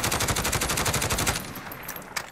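Full-auto fire from a SIG SG 550 sniper rifle in Call of Duty Modern Warfare: a rapid, steady burst of about fifteen loud, evenly spaced shots lasting over a second, then stopping, with a brief mechanical click trailing off afterward.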